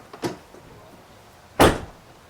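A Honda Civic power door lock actuator unlocks with a soft click followed by a sharper, louder clunk, close by and heard alone.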